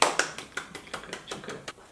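Hand clapping from people in a room, a short run of about ten quick, evenly spaced claps that fade slightly toward the end.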